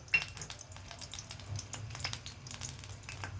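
Cumin and mustard seeds spluttering in hot oil for ginger chutney, a faint, steady frying crackle with small scattered pops and no voices.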